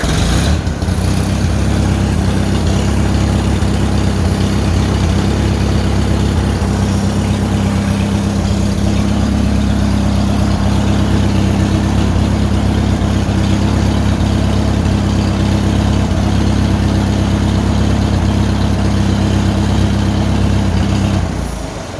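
Farmall 450 LP tractor engine running at a steady, loud idle for the whole stretch, a deep continuous low rumble with a constant throb and no voices.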